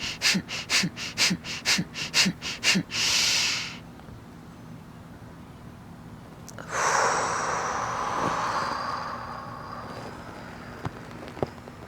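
Bhastrika pranayama breathing exercise: a burst of about ten rapid, forceful breaths in an even rhythm, then a long deep exhale. After a pause, a softer, sustained breath follows, all close and with no talking.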